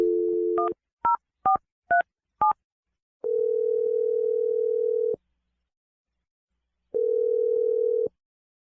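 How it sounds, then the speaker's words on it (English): Telephone keypad tones dialing a number, five quick distinct beeps followed by two long steady ringback tones separated by silence, clear and close. "I'm going to dial his number right now."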